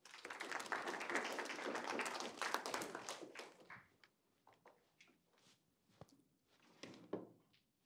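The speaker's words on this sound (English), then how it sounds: "Round of applause." A burst of hand clapping from a small group at a university lecture, dense at first and then thinning into a few scattered claps.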